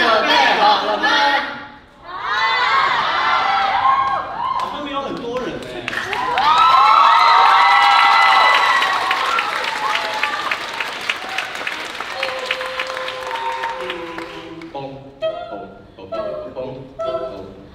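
A concert audience in a university auditorium breaks into loud applause and cheering, swelling into a dense ovation with whoops before tapering off, while voices call out over the clapping near the end.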